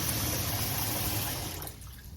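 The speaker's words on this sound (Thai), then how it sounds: "เทน้ำทิ้งให้หมด แล้วก็เปิดน้ำใส่ให้ท่วมดีเลยนะคะ" Tap water pours steadily into a bowl of washed sticky rice, a close, continuous splashing gush that thins and quiets toward the end as the bowl fills.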